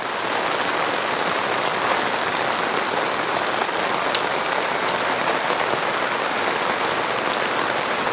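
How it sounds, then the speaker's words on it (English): Rain falls hard and steady on a Purple Leaf 12x16 hardtop patio gazebo roof, a close, constant hiss of pattering drops that never lets up, heard alone with no talk. "And you can see the rain rolls off the roof"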